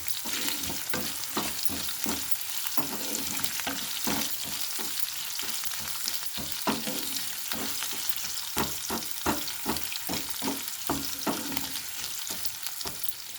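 Green chillies and a small onion fry in a pan, a steady close sizzle broken by repeated scraping stirs and clinks of the spatula against the pan.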